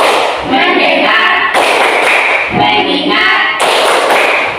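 A class of schoolchildren clapping hands in a rhythmic focus chant, dense bursts of loud clapping repeating across the clip while voices chant along in the room.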